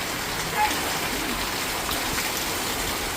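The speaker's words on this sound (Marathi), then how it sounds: "पलीकडून दाखवून मला पाणी रस्त्याने कसं वाहत आहे" Steady rain falls and splashes on a hard surface in Nagar, Maharashtra, with rainwater running along the road underneath; no one speaks.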